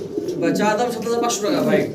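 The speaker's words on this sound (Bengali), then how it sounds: "একদম ইয়াং কবুতর" Young pigeons at a seller's loft coo in soft, rolling murmurs, heard close under a voice.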